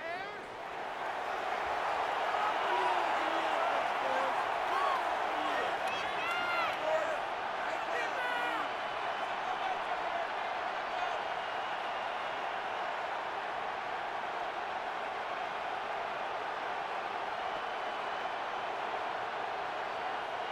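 A stadium crowd roars steadily in Madden NFL 26 during a playoff game between the Los Angeles Rams and Chicago Bears, a dense, sustained wall of cheering and noise with commentary talk over it.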